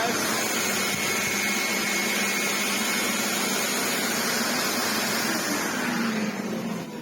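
A Sebo C2 Total vacuum cleaner running, with a clogged, fluff-filled fault: a loud, steady motor whine and airflow rush held throughout, close up, easing slightly near the end.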